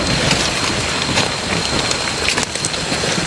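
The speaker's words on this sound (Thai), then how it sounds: "ฝนก็กำลังตก" Steady rain falling outdoors during an evening hunt for wild mushrooms, a dense continuous hiss of drops on the ground and leaves, close and fairly loud, with no voices.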